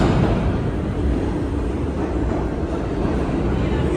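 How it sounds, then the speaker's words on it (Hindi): A freight train rolls past a New York station platform, a loud, steady rumble with a broad roar that holds evenly for the whole stretch. "जो ट्रेन चल रही है जिसे कहते हैं कि मालगाड़ी"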